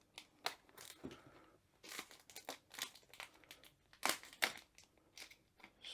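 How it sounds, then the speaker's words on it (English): Faint snipping, tearing and crinkling as cellophane wrapping is cut from a box, a quiet, close, irregular series of short rustles and cuts. "the first thing we have to do is cut the cellophane."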